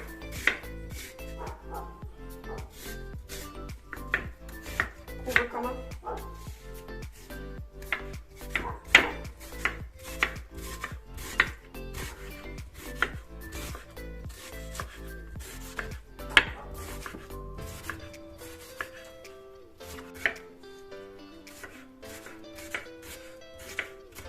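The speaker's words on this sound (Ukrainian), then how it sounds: "Нарізаємо цибулю рівненько." An onion being chopped with a knife on a board in a home kitchen while making cabbage soup, giving rapid, regular close cuts for over twenty seconds that slow and thin out near the end.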